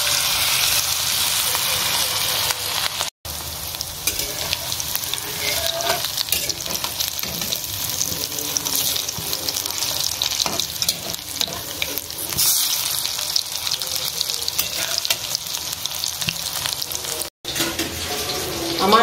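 Goat fat fritters bound with a little rice flour sizzle steadily in hot oil in a wok, a loud continuous hiss and crackle with faint stirring, lasting throughout with only a couple of brief breaks.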